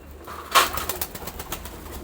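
Pigeons being shown ahead of a Saturday auction, one sharp call near the start and then softer coos and faint flutters over a low steady background, with no voices.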